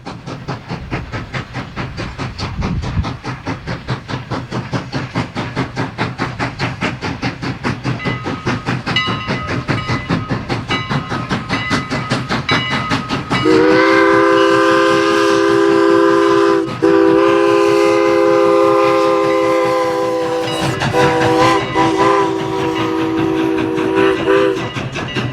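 Strasburg Rail Road steam locomotives 90 and 89 run along the line with a steady rhythmic chuffing and rolling clatter, then a loud, sustained chime whistle sounds twice close by.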